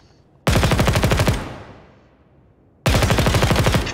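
A full-auto weapon in the video game Ground Branch fires two rapid, loud bursts, each a dense rattle of shots. A long echoing tail fades between the bursts.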